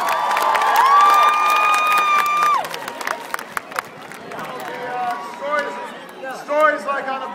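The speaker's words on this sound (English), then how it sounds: "Big round of applause for that great effort." A high school crowd cheering and clapping, loud whoops and sustained shouts rising over applause, then scattered claps and excited voices.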